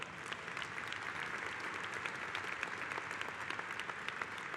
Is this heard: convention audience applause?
yes